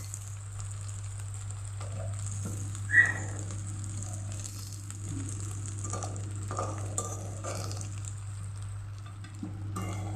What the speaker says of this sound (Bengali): এক পাশ হয়ে গেছে, এখন উল্টে দেব।